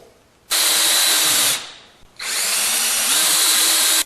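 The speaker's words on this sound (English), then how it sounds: "hopefully when I drill through here, I'll shoot right through that hole." A power drill whines loudly drilling a pilot hole through wood in two sustained bursts, a brief pause between them, close up with no talking.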